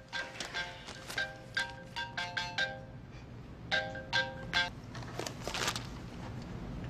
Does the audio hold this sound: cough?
no